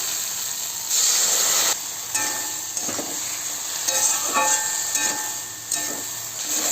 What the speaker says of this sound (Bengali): আর একটু ভাজা ভাজা হোক তারপরে মশলাটা দেবো তো দেখো ভাজা ভাজা হয়ে গেছে আলু আর ঢ্যাঁড়সটা